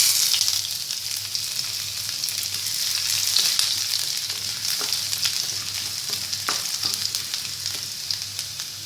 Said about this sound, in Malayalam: ഇതിലേക്ക് നമുക്ക് കടുക് ഇട്ട് കൊടുക്കാം. കടുക് പൊട്ടി കഴിയുമ്പോൾ അതിലേക്ക് നമുക്ക് ചെറിയ ഉള്ളിയും ഒരു ചെറിയ കഷ്ണം ഇഞ്ചിയും